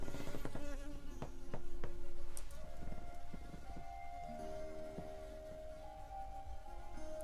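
A bee buzzes close by indoors, its whine wavering in pitch as it circles, with scattered clicks and taps underneath.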